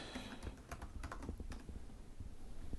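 Quick typing on a computer keyboard while entering a track label in audio editing software: soft, irregular key clicks in a steady flurry, faint and close, with no voices.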